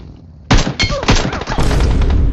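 Gunfire in a shooter video game, a burst of several sharp, loud shots beginning about half a second in, with rapid cracks and dense follow-up blasts through to the end.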